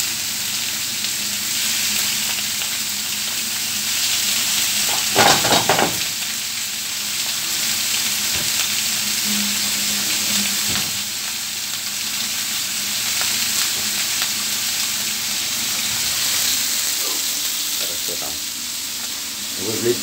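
Food sizzles and fries steadily in pans in a hot kitchen, a continuous close hiss with a few louder clatters of cookware along the way.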